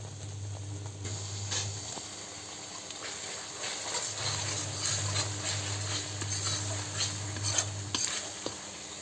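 Fish sautéing in hot oil in a pan gives a continuous close sizzle, broken by occasional stirring scrapes, over a low steady hum that cuts out briefly.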